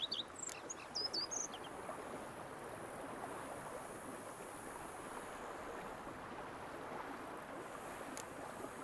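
Small birds chirp in short bursts early on in The Witcher 3: Blood and Wine, faint over a steady ambient wash of wind or water, with a few scattered high calls later.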